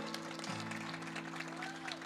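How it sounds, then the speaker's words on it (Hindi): Audience applause at the Aalmi Urdu Conference in Karachi, a soft, continuous patter of clapping heard at a distance beneath a steady low hum, with no voices standing out. "अजहर हुसैन साहब के लिए भरपूर तालियां"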